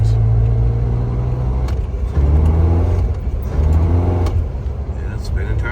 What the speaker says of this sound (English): it's spinning tires